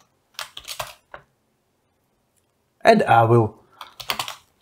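Short bursts of typing code on a computer keyboard, quick clustered keystrokes near the start and end, fairly close and quiet, with someone speaking briefly between them.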